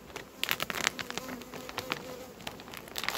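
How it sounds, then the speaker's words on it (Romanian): Many honeybees buzz at a hive opened for inspection, a dense, close hum punctuated by brief louder passes as individual bees fly near, fairly quiet overall with no talking. "Acum e multă albină în stuc"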